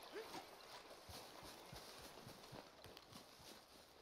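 Horse hooves clip-clop at a steady walking rhythm in the video game Red Dead Redemption 2, fairly faint, over a soft ambient background with occasional brief voice.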